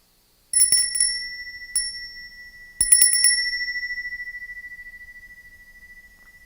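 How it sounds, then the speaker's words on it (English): Bicycle bell, a few sharp metallic dings in quick bursts, near and bright, the last ring left to fade away slowly in otherwise quiet surroundings. "You weren't expecting the bell to ring, so that was a sudden stimulus."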